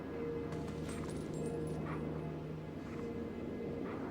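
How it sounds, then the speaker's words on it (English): Dog whimpers, yips and soft barks from Link's wolf form in the GameCube game The Legend of Zelda: Twilight Princess, scattered in short bursts over steady game music and ambience. "when it's fucking dog noises, even less so"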